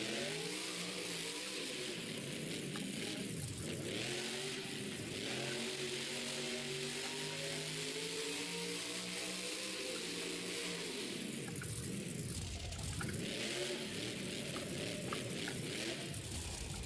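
Gravedigger monster truck at the Monster Jam World Finals, its big engine revving hard in rising and falling sweeps, loud and close over a constant roaring arena wash.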